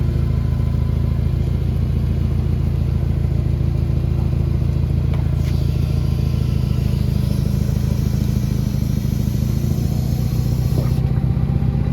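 A small Japanese mini tractor runs steadily as it is driven down onto an outdoor sales lot, its low engine drone continuous and fairly loud throughout, with a few light clanks and knocks along the way.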